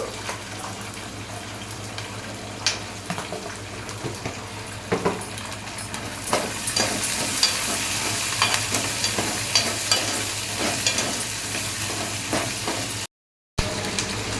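Onion, ginger, green chili and mustard seeds fry in a pan for wheat rava upma, a steady soft sizzle with occasional crackles and pops that grows denser partway through, with no talking.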